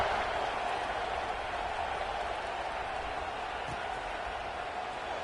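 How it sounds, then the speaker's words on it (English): Stadium crowd at a football game roaring steadily after a scoring drive, a dense continuous wash of cheering and murmur with no break, heard from within the stands. "this crowd is feeling themselves after that last drive"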